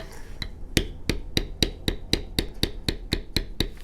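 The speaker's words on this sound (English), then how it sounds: "We strike that tool down" About a dozen sharp, evenly spaced strikes of a mallet on a leather tooling stamp against cased leather, close and crisp, in a steady rhythm.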